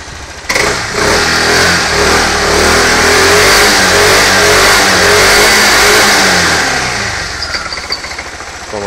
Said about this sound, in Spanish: Vamos a ver cómo acelera.